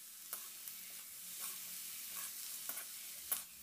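Broccoli, sweet corn and other vegetables sautéing in a pan for rainbow pasta, with a soft steady sizzle and the occasional light scrape and clink of stirring, quiet and close.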